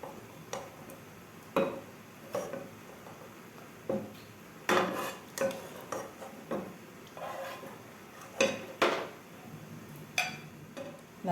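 Cooked chicken scooped out of a pan at home, giving a series of sharp metallic clinks and scrapes of utensil against cookware, spaced irregularly with quiet gaps between them and no talking.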